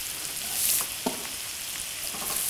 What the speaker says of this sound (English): just cook, stirring for a while so that the flavours go deep into the onions